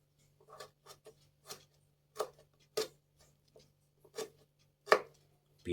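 A dull, blunt knife chopping carrots on a cutting board for crispy bala bala fritters: sharp, separate knocks at uneven intervals, close and clear over a faint steady hum, with no talk.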